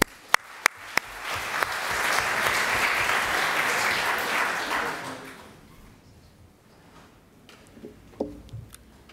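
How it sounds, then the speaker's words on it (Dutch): An audience gives warm applause for a speaker taking the stage. A few sharp claps start it, it swells to a dense, steady clapping, then fades away to near quiet, leaving scattered faint sounds. "Geef hem een warm applaus."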